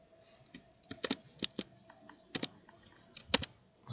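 Keys tapped on a computer keyboard while entering input into a C++ program, a sparse run of crisp close clicks in small clusters with pauses between, alone and fairly quiet.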